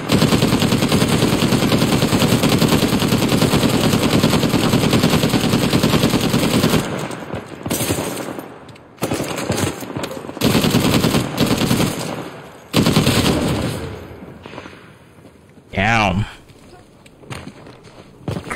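A heavy machine gun fires in a video game, starting with a long, loud, unbroken stream of shots, then breaking into shorter bursts with gaps, plus a sharp whooshing blast near the end.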